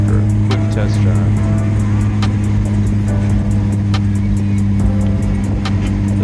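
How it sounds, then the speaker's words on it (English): A Honda Prelude on a test drive gives a steady, loud low engine drone and road rumble from inside the cabin throughout, with someone talking over it. "the car was running great, so we were headed back to the house after a quick test drive"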